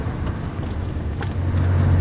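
An old car running on diesel with its stock exhaust drives along, giving a loud, steady low rumble and burble that deepens toward the end, with no talking over it.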